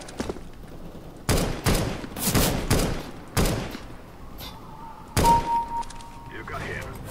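Gunfire in the video game CS:GO comes as several loud, sharp bursts spread across a few seconds, with quieter pauses between the volleys.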